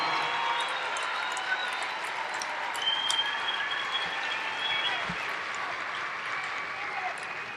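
Sustained applause from a large crowd at an Air Force Basic Military Training coin and retreat ceremony honoring 740 new airmen, steady and dense throughout with no pauses.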